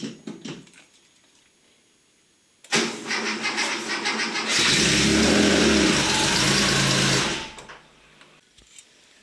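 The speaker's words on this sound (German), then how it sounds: "Jetzt lassen wir mal mit dem Anlasser ein bisschen durchdrehen." Porsche 911 SC flat-six spun over by its starter motor: a quiet click, then a whirring crank that swells into a loud, steady mechanical drone for about three seconds before cutting off, with faint rattling around it.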